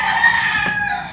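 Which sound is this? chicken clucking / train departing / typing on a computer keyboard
chicken clucking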